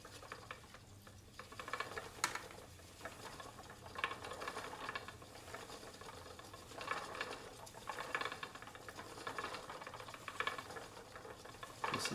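A vintage Castle wool spinning wheel turns with soft, even ticking and light rhythmic clatter, close and fairly quiet, with no voices.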